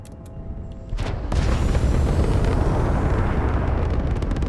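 Spaceship weapons fire in the space game Starfield: a sharp blast opens into a heavy rumbling roar that sustains loudly through the rest of the moment, with bright crackling bursts at the start.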